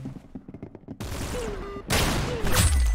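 Rapid bursts of gunfire in the Roblox game Arsenal, loud and close, with a dense volley building up in the last second.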